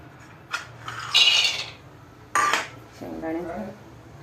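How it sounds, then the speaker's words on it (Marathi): Peanuts tipped into hot oil in a kadai make several separate bursts of clattering, rattling sound against the metal pan, with quieter gaps between the pours. "तेल तापून घेतलं की त्यामध्ये शेंगदाणे घालायचे"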